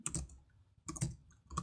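Typing a command on a computer keyboard in a Windows 10 WSL2 Ubuntu terminal: three close, crisp bursts of keystroke clatter separated by short pauses, with no voices.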